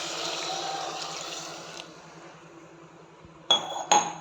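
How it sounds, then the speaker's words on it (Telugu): A glass of water is poured into mutton head curry as a soft, steady liquid wash that fades, followed by two sharp glass clinks near the end. "ఒక గ్లాస్ వాటర్ పోస్తున్నాను"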